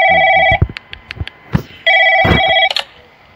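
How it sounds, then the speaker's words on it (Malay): An old-style telephone rings in a FNAF-like robot horror video game, two long electronic ring bursts with clicks and knocks in the gap between them, loud and close. "Siapa pula telefon?"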